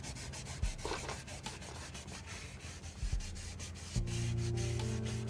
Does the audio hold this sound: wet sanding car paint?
yes